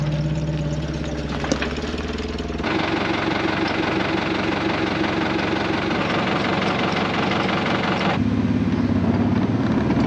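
A forklift engine runs close by during farm harvest work, a steady idling rumble with knocking texture that shifts in pitch and load as the machine revs and settles.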